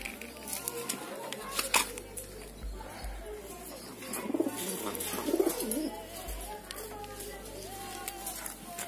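Racing pigeons in a fancier's loft in Hosur, cooing in soft repeated low murmurs nearby, with someone talking over the birds throughout.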